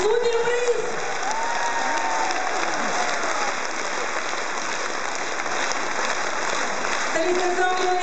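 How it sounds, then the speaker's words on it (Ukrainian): A concert hall audience at a Belarusian folk concert in the MTZ house of culture applauds in a loud, steady, sustained wash of clapping, with faint music at the start and end. "Аплодисменты! Вся концертная зала аплодирует вам."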